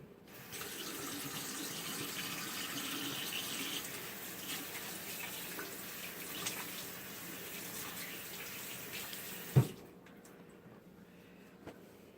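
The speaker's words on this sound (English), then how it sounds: "The first and most important part of making macaroni and cheese is to make sure you wash your hands" Tap water runs steadily into a sink during handwashing, a moderate constant splash lasting most of the span, then shutting off with a brief knock and near silence.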